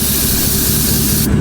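Close, loud continuous hiss of brake cleaner sprayed from a can onto spiders inside a truck, steady for over a second before the highest part cuts off.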